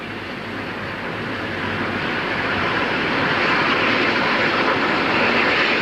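A GWR steam train runs along the seaside stretch of line at Dawlish, a continuous loud roar and rumble that builds steadily as it draws closer, with no pauses.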